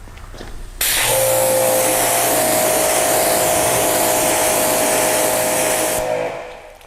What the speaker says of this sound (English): Now let me grab the hose and rinse that again.